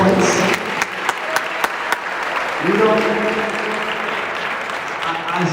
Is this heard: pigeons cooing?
no